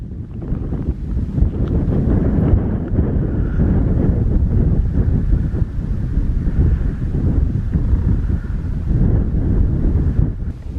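Strong wind blowing on an exposed mountain slope under clear skies, a steady loud rushing roar buffeting the microphone throughout with no pauses.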